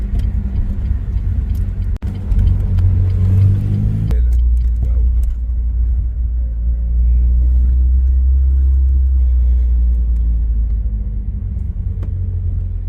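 A Renault Clio RS engine rumbles loudly with a deep, low drone, dipping briefly before settling into a steady idle-like hum, heard from inside or close by.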